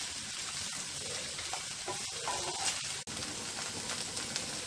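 Bitter gourd pieces fry in a pan, with a steady close sizzle broken by small crackles and scraping stir sounds, and no voices.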